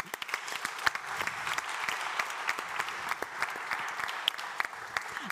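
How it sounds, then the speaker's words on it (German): Steady applause from an audience at a film tour panel, a dense patter of clapping that holds at an even level throughout, with a few sharper claps standing out. "Applaus"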